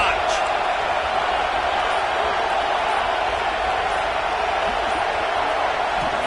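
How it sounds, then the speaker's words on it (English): A football stadium crowd roars steadily throughout second down, a dense and loud wall of cheering. A commentator's voice is heard over it. "this crowd is turning it up a notch"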